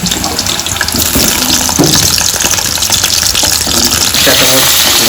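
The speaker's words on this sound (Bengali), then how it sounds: "এবারে তেল গরম হয়ে গেছে, এর মধ্যে এবার আলুগুলো দিয়ে এর মধ্যে নুন হলুদ দিয়ে লাল লাল করে ভাজবো আলুগুলো।" Potatoes with salt and turmeric fry in hot oil in a steady, loud, close sizzle that hisses continuously throughout, with faint clinks of a utensil.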